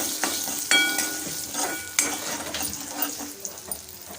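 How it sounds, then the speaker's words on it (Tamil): Curry leaves and a broken dried red chilli sizzle in hot oil as a spoon stirs the pan, with scraping strokes and sharp clinks over a soft, steady frying hiss. "ஒரே ஒரு வரமிளகாயை கிள்ளி போட்டுக்கலாம் கருவேப்பிலை சேர்த்து கலந்து விட்டுக்கலாம்"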